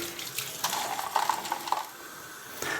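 Cold tap water runs and splashes into a container over ice for a black-and-white film developing bath, a steady close wash with small clinks, stopping briefly near the end.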